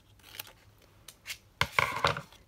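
Scissors snipping a paper tag for a boho junk journal, a few quiet, separate cuts followed by a louder cluster of close, crisp snips.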